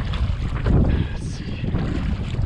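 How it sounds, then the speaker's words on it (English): Steady wind rushing and buffeting across the microphone outdoors on Puget Sound from a kayak, a constant broadband roar with no speech. "You can hear the wind. It's blowing."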